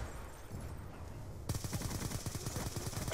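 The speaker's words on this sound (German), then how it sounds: "ich schieße die ganze in die Luft" Rapid automatic gunfire in the video game Black Ops 2, a fast stream of sharp shots starting midway after a quieter stretch, loud and steady to the end.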